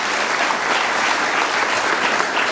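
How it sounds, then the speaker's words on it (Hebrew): Audience applause fills a civic honorary-citizenship ceremony in Lod, a steady, dense clapping from a large crowd that holds at an even loudness throughout with no gaps. "שזה המקום לתת מחיאות כפיים לגאולה"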